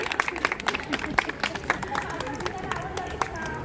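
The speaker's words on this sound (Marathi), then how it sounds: "सगळ्यांनी टाळ्या वाजवायच्या सवितासाठी" A training-batch audience claps for a participant in a small skit, giving bursts of uneven hand claps with a loud voice and crowd chatter over them.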